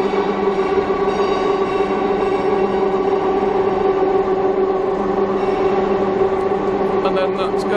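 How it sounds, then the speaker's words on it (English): Heavy lifting equipment at a gauge-change works in Brest, Belarus raises a railway carriage off its European bogies, giving a loud, steady mechanical hum and rumble that runs unbroken throughout. "So what this is actually doing now is just lifting the whole carriage up off its European bogies."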